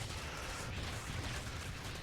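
Repeated cannon fire from a StarCraft 2 battle, a dense rumbling barrage of low thuds and bursts holding steady without pause, with no voices over it.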